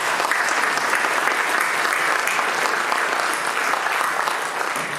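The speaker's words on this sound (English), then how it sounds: "can we give one more round of applause to the entrepreneurs for today's pitches?" An audience at an energy technology showcase claps for the entrepreneurs after their pitches, a dense, even round of applause from a full room that holds steady for several seconds.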